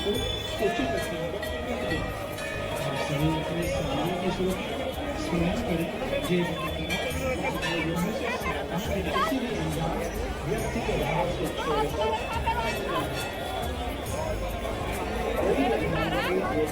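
Dense crowd hubbub on Sanjay bridge in Haridwar, steady overlapping chatter and footsteps with occasional clinks, continuous and fairly loud throughout.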